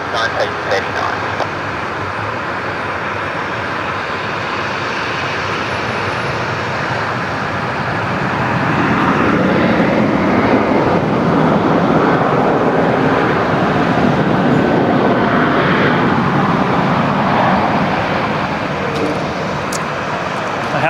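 A Qantas airliner lines up on runway 19 left at Brisbane Airport at night, its engines a loud, steady broadband roar that swells partway through, with a voice talking over it.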